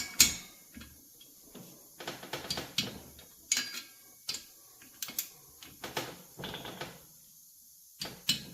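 A torque wrench tightens cylinder head bolts on a Kawasaki FR730V engine, giving a series of sharp ratcheting clicks in short irregular bursts, close and clear against a quiet shop.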